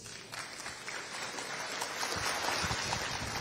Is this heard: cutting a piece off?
no